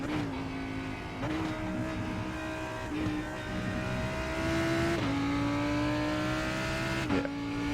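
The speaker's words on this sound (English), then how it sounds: "There's a faster car bearing down on you. It's their class leader." Race cars in the iRacing sim during an IMSA Hagerty series race at Watkins Glen, a faster class-leading car bearing down and overtaking, engines howling close by with repeated upshifts and rising revs over steady road noise.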